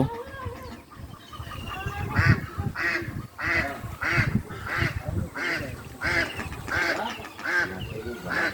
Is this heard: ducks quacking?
yes